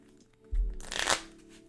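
Cards shuffle in a Pokémon card video game, one short riffling burst lasting under a second, fairly quiet and heard alone.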